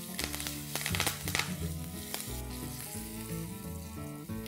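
Mustard seeds, asafoetida, large chillies and curry leaves hit hot oil, crackling in a sharp, popping burst of sizzle that then settles into a steady fry, close and fairly quiet, without any voices.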